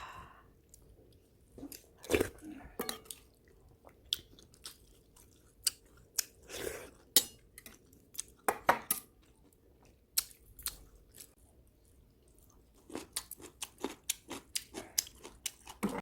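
Close, wet chewing and soft crunchy bites come in irregular bursts with short pauses as someone eats a rolled egg omelette with rice in soup; no talking is heard.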